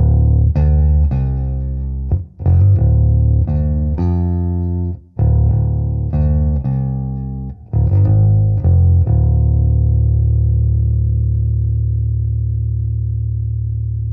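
A bass guitar runs through an Ampeg SVT 2 Pro amplifier with the ultra low control switched off. It plays short, punchy notes broken by brief pauses, then a last note rings out and slowly decays.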